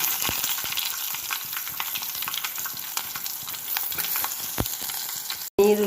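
Mustard seeds and onion frying in hot oil, a dense, continuous sizzle with scattered pops and crackles throughout, close and fairly loud, ending in a brief clatter.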